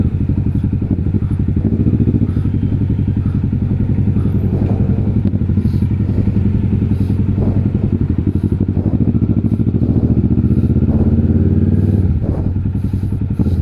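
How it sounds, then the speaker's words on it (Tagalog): Loud, close Triumph motorcycle engine with an aftermarket exhaust idling with a deep, rapid throbbing exhaust note and occasional rattling, steady throughout. "Maingay lang tong motor natin, no?"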